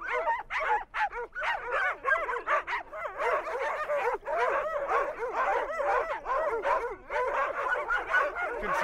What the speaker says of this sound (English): Put a number of dogs together, signal the concept of a walk, and they all start barking.